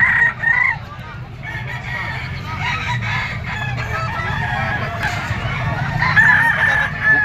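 A Gilmore Cross rooster at a crowded gamefowl market crows twice, loud and close, with a long drawn call over a bustling background of murmuring crowd and other fowl.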